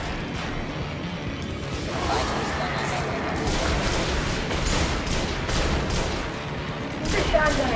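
Shotgun blasts in the video game Destiny, several sharp booming shots scattered over a busy, noisy combat background with other impacts mixed in.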